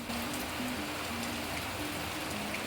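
Steady rain falls in a garden during the rainy season, a dense even hiss of drops on surfaces, close and continuous with a faint low tonal hum underneath.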